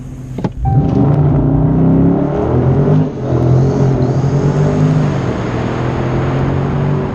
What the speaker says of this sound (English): So what it's telling me to do is obviously press the brake and quickly apply the full throttle